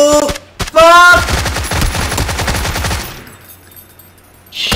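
Gunfire from the video game PUBG unloaded on an enemy: a loud, close, rapid automatic burst rattles for about two seconds after a short shouted voice, then fades into quieter game ambience.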